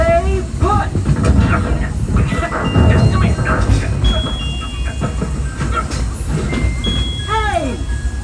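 Walt Disney World Railroad train at Magic Kingdom rolling steadily along the track, with loud voices and musical tones from the ride's show layered over the continuous rumble.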